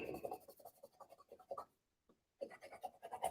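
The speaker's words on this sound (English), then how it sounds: "then you use the pen cap to erase it" A Pilot Frixion highlighter mark is rubbed away with the pen cap, giving quick, close, faint scratchy strokes that pause briefly before resuming.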